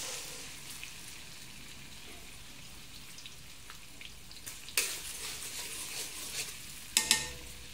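Garlic frying in hot oil in a pan, a soft continuous sizzle with a few sharper crackling bursts and stirring scrapes, close and fairly quiet.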